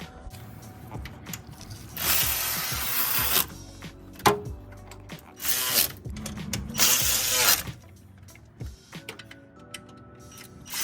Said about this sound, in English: we'll torque the bottom ones to 48 Newton meters plus 90 degrees